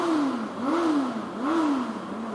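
A 2022 Honda CB400 Super Four inline-four motorcycle engine is blipped in neutral, rising and falling in three smooth swells of revs, close and steady, with no talking.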